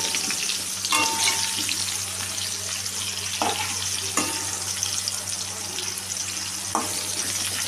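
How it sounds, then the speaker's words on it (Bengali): Potato and pumpkin pieces fry in a pan with a steady, moderately loud sizzle, punctuated by a few sharp clicks and knocks of a utensil, with no talking. "এদিকে আমি আলু আর যে কুমড়োটাকে ভাজা করতে বসিয়েছিলাম, সেটা আমার দেখো ভাজা হয়ে গেছে"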